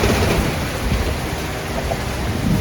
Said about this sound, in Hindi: होने लगी बहुत ज़ोरों की बारिश